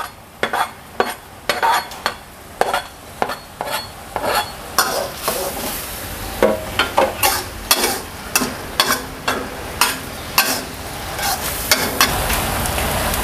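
Chopped spring onions sizzle in a frying pan while a utensil scrapes and taps the pan in a brisk, regular stirring rhythm, close and clear over a steady hiss, with no talk.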